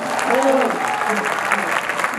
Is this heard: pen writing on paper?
no